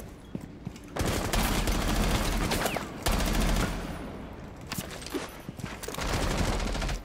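Rapid bursts of gunfire from Rainbow Six Siege, with a close fusillade of repeated shots in several loud clusters and short gaps between them.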